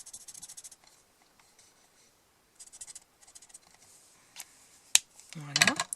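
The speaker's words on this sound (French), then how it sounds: "Je vais colorier simplement l'intérieur de ma fleur." Short scratchy strokes of a fine-tip pink marker colouring inside a flower on paper, coming in several quiet bursts with pauses, close to the microphone, ending in a louder clatter.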